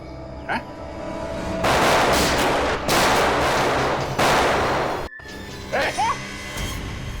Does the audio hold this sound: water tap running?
no